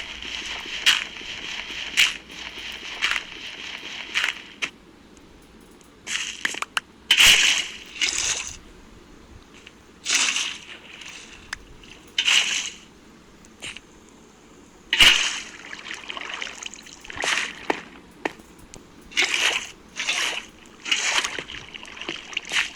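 Water splashes in a farming-style video game, in bursts of sloshing that start and stop irregularly, loud and close, between quieter gaps.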